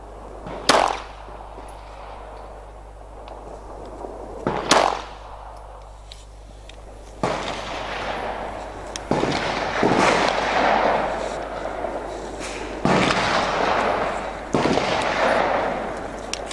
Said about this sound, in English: We'll just put 10 rounds through it, the Winchester ammunition, and we'll just go for the bottom right target out there.